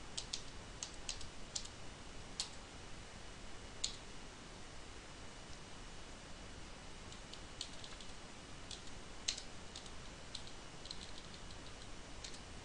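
Typing on a computer keyboard while coding, a quiet steady patter of small key clicks with occasional sharper taps over faint background hiss.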